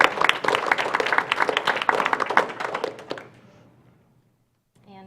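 An audience at a city commission meeting breaks into applause, a dense burst of many hands clapping for about three seconds before trailing off into near silence, then a faint sound returns at the very end.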